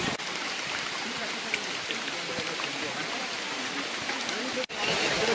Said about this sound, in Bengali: এখানে পুরো মুষলধারে বৃষ্টি পড়তেছে